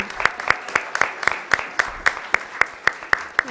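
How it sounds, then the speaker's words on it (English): A single person claps in a steady, even rhythm at a school governing board meeting, about a dozen sharp, close hand claps spaced evenly and heard alone. "I think we need to give them a round of applause"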